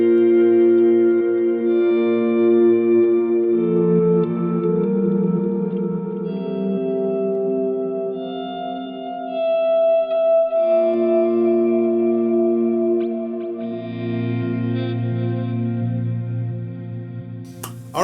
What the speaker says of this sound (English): So we added the space echo, and it's a super like ambient delay.